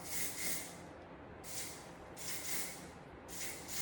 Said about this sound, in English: come in with the volumizing spray, kind of as like a hairspray as well